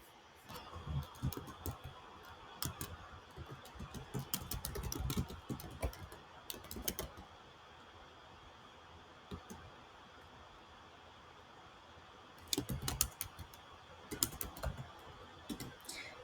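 Typing on a computer keyboard while entering an app name, with bursts of quick, close, soft key clicks separated by quiet pauses and a faint hiss in the background.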